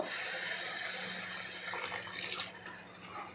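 Water pours steadily into a pan of fish head curry made with catla fish head and puffed rice, a loud continuous rushing splash that fades and softens near the end, with no talking.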